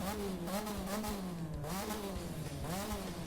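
A 1972 Mazda RX-3 engine in the video game The Crew 2 drones steadily throughout, pitch rising and falling in repeated revs with a raw, buzzy tone, no voices.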